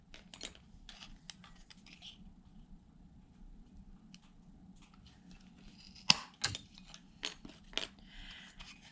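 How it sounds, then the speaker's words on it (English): Small scissors make a few quick, quiet snips while trimming thread ends on a 1:12 scale miniature runner sled, the cuts close and sparse against a faint hum. "And I'm just going to trim off the ends."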